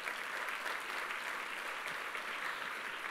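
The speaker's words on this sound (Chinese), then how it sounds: "可不可以给一个掌声？" A seminar audience claps together in steady, sustained applause that fills the room evenly, heard from within the crowd.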